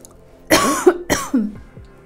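A person coughs twice in close succession, two sharp, close, loud bursts in a quiet room, the second followed by a brief throaty trailing sound.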